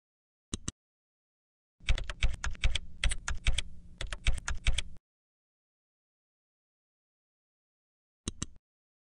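A name is typed on a computer keyboard into a software dialog field: one short pair of clicks, then a fast close run of keystrokes lasting about three seconds, silence, and a final brief double tap, crisp and close with no talk.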